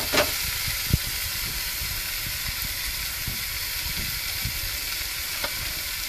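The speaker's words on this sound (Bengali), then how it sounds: "মাশরুমগুলো দিয়ে এবার ভালো করে কষিয়ে নেব।" Mushrooms sizzle and fry in a cooked-down spice paste for a Bengali mushroom kosha, with a steady bright hiss and occasional soft stirring knocks and scrapes throughout, with no talking.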